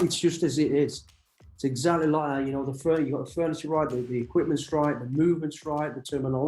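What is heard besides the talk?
No distinct noise like a dog, phone or traffic.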